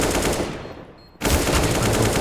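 Loud, dense automatic gunfire from a Counter-Strike match on the Nuke map, fading briefly into quiet before another burst of rapid shots cuts back in at full volume.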